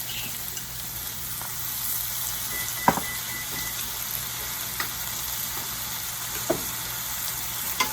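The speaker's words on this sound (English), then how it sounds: "Just going to mix it around, and I'm going to let it wilt down for about 2 minutes." Chopped spinach sizzles in a hot pan with olive oil, a steady close frying hiss broken by a few sharp clicks of stirring, with no talking.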